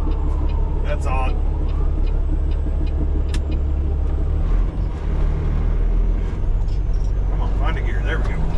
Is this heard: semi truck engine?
yes